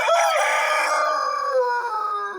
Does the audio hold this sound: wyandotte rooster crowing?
yes